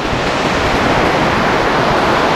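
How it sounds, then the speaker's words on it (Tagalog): Strong ocean waves crash and wash onto the shore at Barangay Bakal, Paracale, Camarines Norte, in the Philippines, a loud, continuous roar of surf without any voices. "Ngayon, medyo malakas yung alon talaga."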